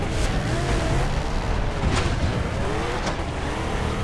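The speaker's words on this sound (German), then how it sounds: "Aber die Karre fährt schnell" A fast car being driven in the video game Far Cry 3, its engine holding a steady loud drone with slight rises in pitch, accompanied by continuous road and wind noise throughout.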